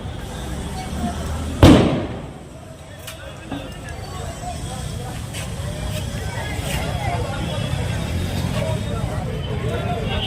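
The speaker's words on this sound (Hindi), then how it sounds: "वाह, क्या पटाखा फूटा" One sharp firecracker bang bursts out early at an outdoor Annakut festival gathering on Kartik Purnima, followed by a lingering crowd hubbub with scattered faint pops and chatter.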